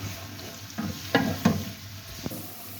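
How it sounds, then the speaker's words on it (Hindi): Onions frying gently in a pan while being stirred for kali mirch gosht, a low steady sizzle with a few soft clinks and scrapes of the spoon, close and fairly quiet, no talking. "अब प्याज को हल्का सा गोल्डन करना है, बहुत ज्यादा ब्राउन नहीं करना"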